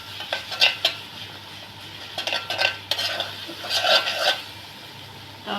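Spoon stirring and scraping spice paste frying in a pan for shahi korma, irregular scrapes and clinks against the pot over a soft sizzle, close by.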